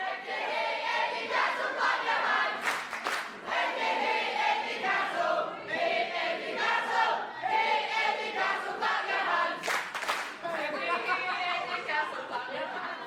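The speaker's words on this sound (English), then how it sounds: "We're seeing a synchronized chant, including clapping for Eddie Castle." A crowd at an independent wrestling show chants in unison for Eddie Castle, rising and falling in rhythmic waves with sharp bursts of clapping, loud and reverberant, with cheering voices throughout.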